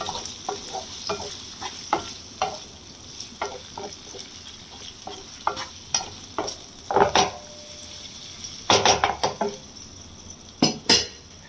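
A spoon stirs chicken liver fry in a pan, making repeated scraping and clinking strokes against the metal over a soft sizzle, with a few louder clatters near the end and no talking.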